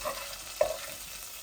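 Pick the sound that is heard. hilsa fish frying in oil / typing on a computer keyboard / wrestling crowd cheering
hilsa fish frying in oil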